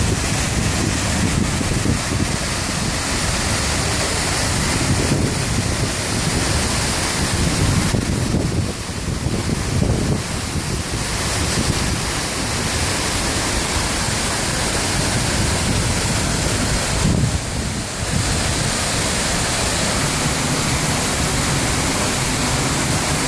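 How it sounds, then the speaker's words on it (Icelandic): Seljalandsfoss waterfall in Iceland, heard from the path behind the falling water: a loud, continuous broadband roar with gusty wind buffeting the microphone throughout. "Hérna erum við komin aftur fyrir fossinn."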